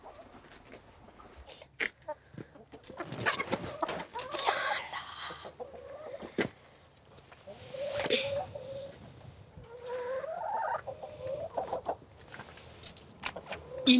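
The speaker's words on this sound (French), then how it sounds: "Il s'est pris d'affection pour les poules du jardin, à qui il rend visite chaque jour." Hens clucking in a garden, scattered close clucks and squawks with short quiet gaps, fairly faint, with other bird calls and a possible dog nearby.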